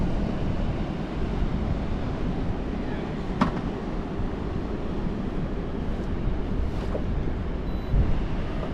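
Boat wake waves churn across open water on the Great Lakes, a steady broadband wash with wind buffeting the microphone throughout, loud and continuous with a couple of brief splashes.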